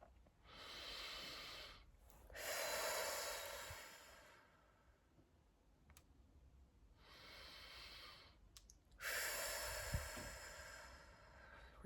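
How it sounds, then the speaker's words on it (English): Slow, deep breaths taken during a guided breathing exercise, long airy inhales and exhales alternating at a calm, steady pace, close and soft with quiet pauses between. "take a few deep breaths, breathing in love, exhaling out anything that is not serving"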